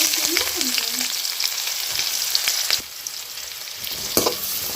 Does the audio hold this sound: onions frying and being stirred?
yes